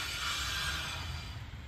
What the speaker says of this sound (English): what you're hearing is a little bit of rust on the rotors there